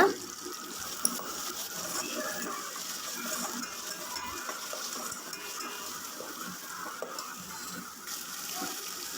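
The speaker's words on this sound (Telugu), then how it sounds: "ఇవన్నీ కూడా మనకి నెయ్యిలో వేగాలి అండ్ అల్లం పేస్ట్" Spices, coriander, mint and ginger paste frying in ghee for mutton biryani make a steady, close, even sizzle that carries on without a break, with no talk.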